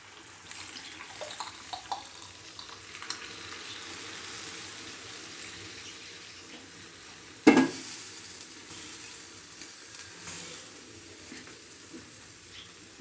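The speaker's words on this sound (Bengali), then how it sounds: "গরম জল দিয়ে দেবো।" Hot water poured into a pan of frying broiler chicken cooked with tomato gives one sharp, loud burst of hiss and splash, after which a steady sizzle and occasional stirring carry on at lower level with no voices.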